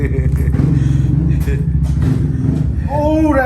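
Yamaha Grizzly 700 ATV engine fitted with a slip-on exhaust, a steady loud motor rumble idling and lightly revving up close, with people talking over it throughout.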